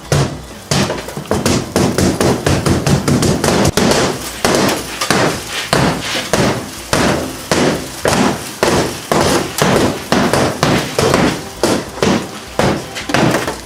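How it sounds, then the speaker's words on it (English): Laminated safety glass in a Volvo pickup truck's windshield is pounded out with rapid, repeated heavy blows, loud and close, each hit a harsh crunching thud with no speech. "Time to take out a windshield."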